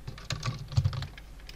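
Keyboard shortcuts tapped out on a computer keyboard during CATIA modeling work, a quick run of close, crisp key clicks with no talk over them.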